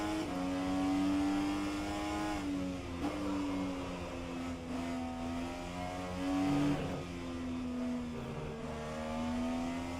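An IndyCar engine in rFactor 2 holds a steady high-pitched whine in short first gear. The pitch dips and climbs through quick gear changes as the revs rise again, loud and continuous with no break.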